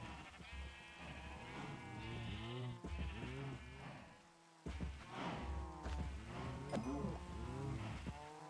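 Sheep in Minecraft bleat repeatedly, several overlapping wavering calls close by, loud and clear with brief pauses between groups and no speech.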